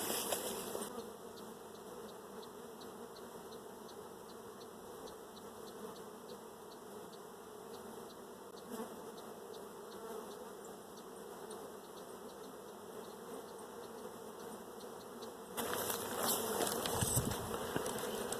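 Honey bees buzz around open beehives in a steady, droning hum that lasts throughout and grows louder and denser near the end.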